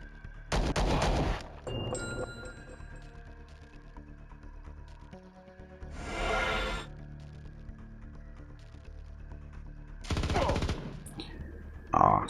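Bursts of automatic gunfire from a turn-based space combat game, three loud rattling volleys spaced several seconds apart over a low steady game soundtrack.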